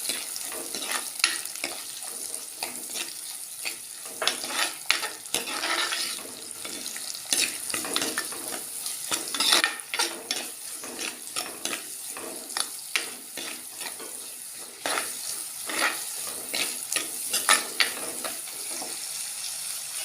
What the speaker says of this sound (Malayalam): വെളിച്ചെണ്ണയാണ് ഞാൻ ഒഴിച്ചത്. കടുക് പൊട്ടി തുടങ്ങി. അതിലേക്ക് 1 ബൗളോളം സവോളയും കൊച്ചുള്ളിയും കൂടെ അരിഞ്ഞതാണ്.